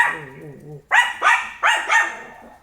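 A person talks briefly, then a dog barks four times in a quick, loud, evenly spaced series close by.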